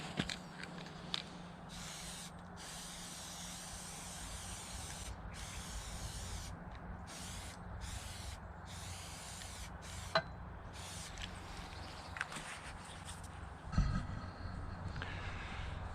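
A frame is spray painted with an aerosol can in repeated hissing bursts separated by short pauses, close and fairly loud, with faint handling knocks between sprays.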